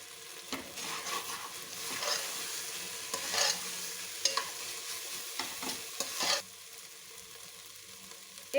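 Urad dal khichdi is stirred and roasted in a pan, giving a continuous soft sizzle with repeated scraping strokes of a spoon for several seconds, then a quieter steady fry.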